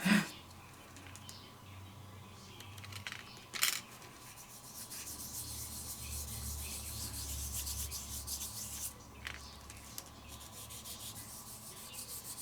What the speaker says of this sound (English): And I'm just rubbing over the areas where I can see that there's obviously some embossing.